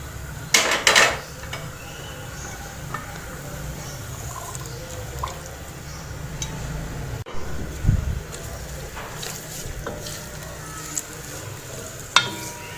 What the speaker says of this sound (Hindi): तब तक हम जो है वो प्याज को फ्राई कर लेते हैं।